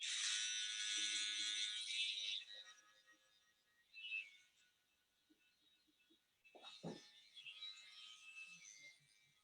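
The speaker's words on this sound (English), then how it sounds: "just using clipper over comb in the nape area just to get a nice clean finish" A BaByliss PRO hair clipper buzzes close up while cutting hair clipper-over-comb at the nape. Its high steady whine runs for about two seconds, then returns more faintly with light handling noises between passes.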